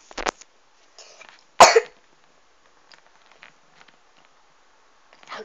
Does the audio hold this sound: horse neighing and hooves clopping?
no